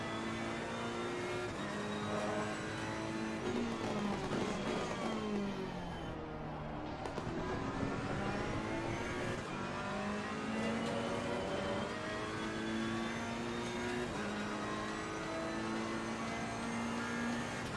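A Ferrari race car in a racing video game screams through continuous rising and falling revs, shifting up and down through the gears at a steady loud level, with no speech over it.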